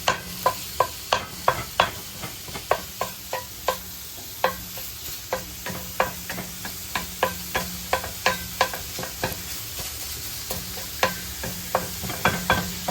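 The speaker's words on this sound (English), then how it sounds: "Want to break up your sausage. Okay. I use like a flat wooden spatula." Pork sausage sizzles steadily in a pan while a flat wooden spatula breaks it up, with repeated sharp taps and scrapes at an uneven rhythm over the constant frying hiss.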